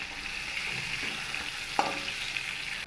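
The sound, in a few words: pointed gourd (potol) frying in oil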